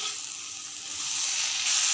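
Mixed vegetables frying in a pan with soy sauce, making a steady, close hiss of sizzling oil that grows a little louder toward the end, with no talking.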